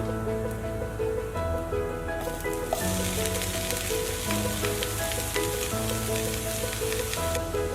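Brinjal stir-fries with grated coconut in a pan, a continuous close crackling sizzle that swells brighter partway through as the eggplant goes in, with occasional spoon stirs and no voices.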